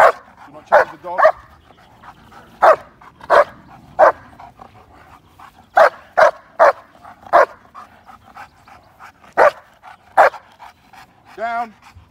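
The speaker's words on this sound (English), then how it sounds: "He'll keep barking at you." A show-line German Shepherd, eleven months old, barks repeatedly while guarding during a mock robbery, with loud, close, sharp barks in irregular bursts and a short whine near the end.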